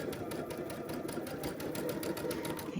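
A sewing machine stitches a Tula Pink butterfly quilt with a rapid, even, close mechanical chatter that runs without pause for a few seconds, with no speech over it.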